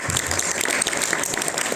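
Classroom applause from a group of students, a dense, close patter of many hands clapping together that stays lively and even for a couple of seconds with no talking over it.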